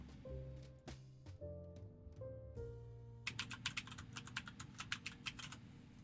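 Rapid keystrokes on a computer keyboard sound close and crisp, arriving as an irregular burst of clicks after several sustained electronic tones. No one speaks.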